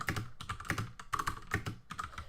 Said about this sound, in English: what is he typing?